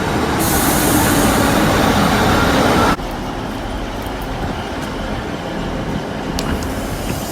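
A train rumbles at a station platform, a loud broad roar that suddenly drops to a quieter steady rumble about midway, with faint clanks later.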